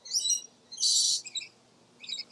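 Birds in the Lori Landing aviary at Busch Gardens Tampa Bay chirp in three quick, high bursts, with the middle call loudest, over a quiet background.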